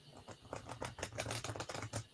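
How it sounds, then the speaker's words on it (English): A new tarot card deck is shuffled by hand at a tabletop game session, giving a quiet, close run of rapid crisp card flutters and clicks in uneven bursts. "I'm just shuffling cards."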